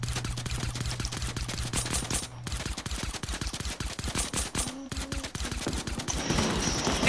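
Rapid video game gunfire crackles in a dense, fast stream of shots through the whole stretch, loud and close, with brief gaps and a couple of short tonal effects layered on top.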